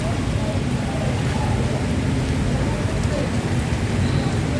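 Steady, dense hiss of heavy rain pouring onto a flooded city street, Taft Avenue, continuous and close throughout with no break, and no clear voices standing out.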